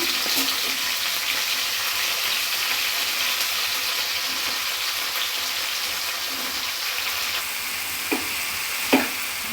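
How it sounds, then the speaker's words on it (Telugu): Gongura (sorrel) flowers sizzle in an oiled pan with a steady, loud frying hiss, broken near the end by a couple of clinks from stirring. "అదే ప్యాన్లోకి గోంగూర పువ్వుని వేసుకొని వేయించుకోవాలి."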